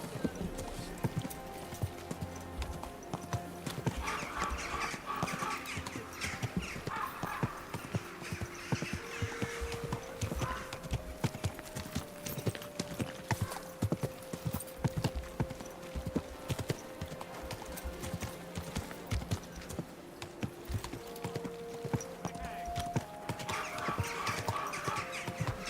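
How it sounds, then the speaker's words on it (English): Horse hooves clip-clop steadily through a Kingdom Come video game scene, a continuous rhythmic trot under game music and ambient bird calls, with occasional talk over it. "Easy, good horse."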